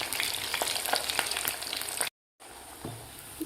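Fasting-style medu vada fry in hot oil with a steady, dense crackling sizzle, close and continuous, broken by a brief silent gap before the sizzle resumes.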